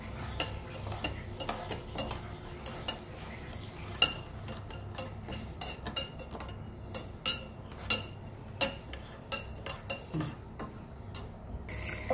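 A spoon stirs and scrapes sugar into a homemade ice cream mixture in a bowl, with repeated clinks and scrapes in an uneven rhythm, close by and moderately loud.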